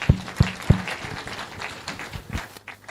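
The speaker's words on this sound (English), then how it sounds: "APC, can we clap louder, please?" Applause at a state political party caucus meeting in Benue State, Nigeria, with a few sharp, loud claps up front followed by scattered, uneven clapping from the crowd that tapers off.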